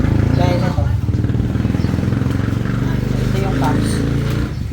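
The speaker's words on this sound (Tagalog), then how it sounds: "So, after rev, may maririnig kayong parang malagitik." A Yamaha Sniper 155 motorcycle with a worn cam bearing runs close by, its engine revving and idling with a rough, chattering drone while a person talks over it.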